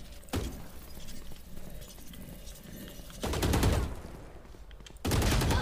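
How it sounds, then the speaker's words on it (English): A Killjoy swarm grenade is deployed in Valorant, with bursts of rapid crackling, popping blasts arriving in two loud clusters amid gunfire-like clatter, no talk. "Placing swarm grenade. Swarm grenade out."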